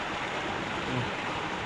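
Steady rush of running water poured over dalag, tilapia and hito during cleaning, a continuous broadband splash with no talk over it.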